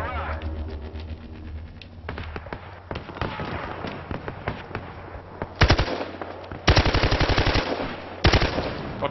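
Automatic weapon fire in the video game Battlefield Hardline, loud close bursts of rapid shots with pauses between them, amid game noise and some voices.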